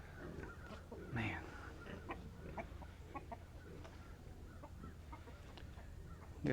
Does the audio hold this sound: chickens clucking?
yes